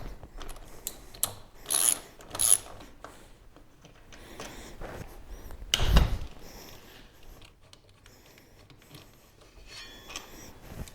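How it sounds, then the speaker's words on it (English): A 10mm 12-point socket on a ratchet backs out the brake caliper bolts on a Harley Sportster, giving several close, irregular bursts of clicking and metal handling with one louder clunk partway through. "Using the 10mm 12-point socket, get these bolts off."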